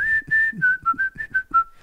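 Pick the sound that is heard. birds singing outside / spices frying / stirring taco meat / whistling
whistling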